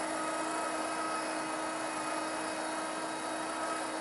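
A Litter Robot 3 Connect litter box runs its cleaning cycle with a steady, close mechanical motor whir and hum that holds even throughout.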